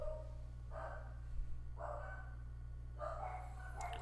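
Several dogs bark in a few short bursts somewhere off in another room, faint over a steady low electrical hum, with quiet gaps between the barks.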